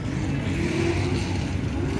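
A V8 Chevrolet Camaro drifting, a steady loud engine drone with a brief rising rev, continuous and fairly near, with no talking.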